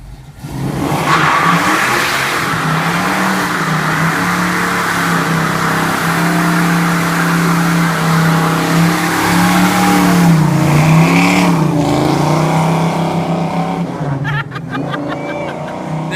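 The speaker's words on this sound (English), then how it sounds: "Hey, that's a burnout." A 1969 Chevrolet Camaro Z28 does a burnout, its engine roaring loud and close with sustained high revs and a rising, wavering pitch before easing off near the end.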